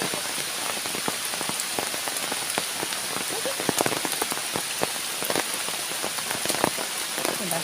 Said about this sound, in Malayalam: ഫുൾ മഴ നോക്കി പെയ്തുകൊണ്ടിരിക്കുകയാണ്